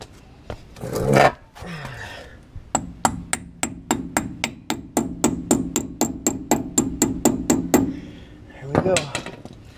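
A hammer taps brake parts into place on a Ford Expedition during front rotor service, about twenty quick, evenly spaced metallic knocks close by, with brief talk before and after the tapping.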